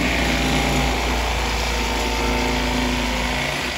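A Bubba electric fillet knife runs on a fish fillet, its motor giving a loud, steady high-pitched whine with a buzzing hum underneath, close and continuous, without speech.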